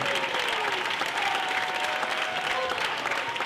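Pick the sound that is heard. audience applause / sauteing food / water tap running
audience applause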